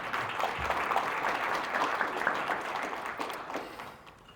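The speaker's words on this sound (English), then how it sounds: "Let's give a round of applause for Ms." An audience at a Black farmers conference applauds an introduced speaker, sustained clapping from a crowd that holds steady and then tapers off toward the end.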